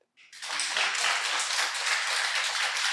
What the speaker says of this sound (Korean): 박수 한번 치셔야 됩니다.